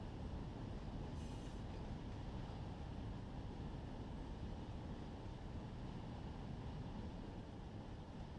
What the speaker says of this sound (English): you can see our other train, our Union Pacific train coming in.